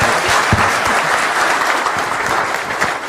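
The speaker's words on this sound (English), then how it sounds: "I'd like to thank all the panelists and give them a big round of applause." An audience applauds panelists at the close of a panel event, a dense, steady burst of clapping heard up close throughout.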